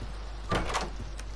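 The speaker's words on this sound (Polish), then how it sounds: "Otwieramy drzwi." Door opening in the horror video game Doors, a short sliding whoosh with a soft thud lasting under a second, set against a quiet low hum.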